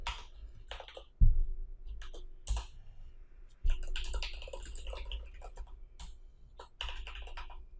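Code is typed on a computer keyboard in irregular bursts of close, crisp key clicks separated by short pauses, with a few louder thumps.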